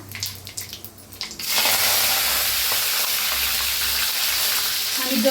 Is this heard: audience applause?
no